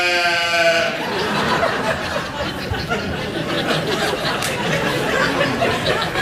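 Sheep bleating effect on a late-night TV talk show set, a wavering bleat at the start that quickly dissolves into a dense, steady wash of studio noise and chatter.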